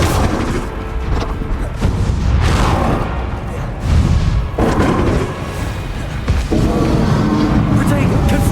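Repeated booming blasts from a Confringo blasting spell in a wizard duelling video game, loud, dense and continuous, with several heavy thuds landing close together over shouted spell names.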